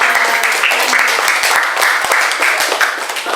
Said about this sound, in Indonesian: Berikan aplaus dulu untuk